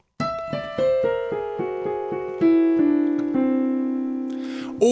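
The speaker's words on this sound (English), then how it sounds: "the whole tone scale, which uses only tones." A whole tone scale played one note at a time on a keyboard, about ten clear rising tones in a steady rhythm, each ringing into the next, with a short bright noise at the very end.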